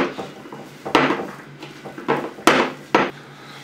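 Dough-like mixture being worked by hand in a bowl, close squelching pushes and knocks against the bowl arriving in an irregular series of about six strokes.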